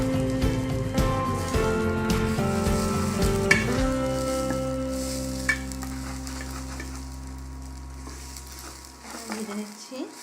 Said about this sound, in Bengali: আমার মশলাটা ভাজা হয়ে গেছে, আমি এখানে চালটা দিয়ে দিচ্ছি।